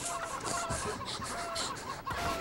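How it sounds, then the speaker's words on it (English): Chickens clucking in a video game, a busy run of repeated clucks and squawks layered over a steady, dense game soundtrack with no talk. "Chickens!"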